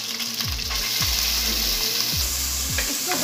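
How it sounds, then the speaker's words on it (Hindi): Cabbage frying in oil with meat and ginger garlic, a continuous moderate sizzle with a few scraping stirs of a spoon across the pan spaced throughout. "गर्म हो गया ही, हमने एक चम्मच अदरक लहसुन डाल दिया इसमें, खत्म हो जाएगा। फिर हम गोश्त डालेंगे इसमें, ये हो गया है, अब हम गोभी डाल देंगे।"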